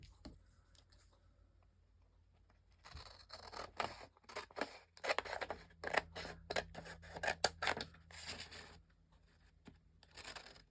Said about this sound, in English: Okay, let's cut this.